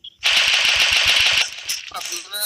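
Rapid pistol shots in the mobile battle royale game Free Fire, a loud close burst of about a dozen quick cracks, followed by scattered game sounds and possible voices.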